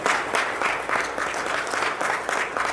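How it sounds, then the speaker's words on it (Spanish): A church congregation applauds during a Spanish-language sermon, a steady, dense patter of many hands clapping at moderate volume that continues unbroken throughout. "Dale un fuerte aplauso al Señor."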